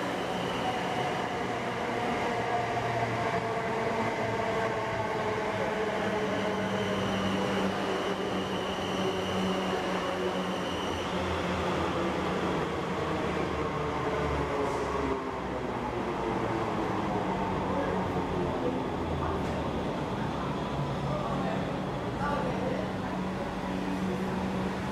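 A South Western Main Line passenger train pulls into Winchester station, its steady rumble and rolling wheel noise filling the platform, with brake tones sliding and shifting as it slows to a stop.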